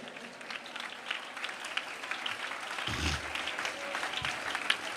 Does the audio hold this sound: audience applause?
yes